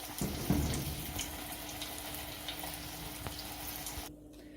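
Steady sizzling of bread frying in hot oil fills the clip, with a soft clatter near the start before it quiets at the end.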